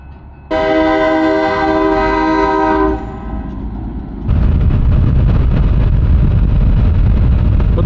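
A loud train horn blasts for a few seconds, then the heavy rumble and clatter of a passing train takes over, close and continuous.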